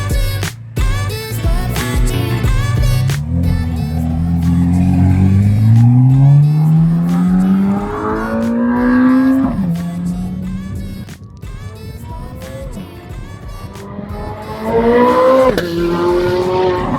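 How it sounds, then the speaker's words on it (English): A Chevrolet Corvette C8 Z06 with a loud aftermarket exhaust roars past several times, engine revving and rising in pitch as it accelerates, loud and close, with tire noise and no talking. "I'm going to insert some clips of my C8Z06 flying by with this amazing exhaust that it has on it"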